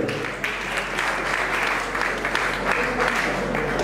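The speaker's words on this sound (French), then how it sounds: "nous vous prions quand même d'applaudir pour eux, s'il vous plaît." Steady applause from an audience at a festival awards ceremony held by a foundation honouring comedy artists, a continuous dense clapping that carries evenly through the whole stretch with no voices over it.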